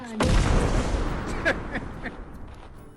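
A creature blowing itself up in Dwarf Fortress, one sudden loud booming blast followed by a long rumbling decay with a few fainter pops trailing off, no talk.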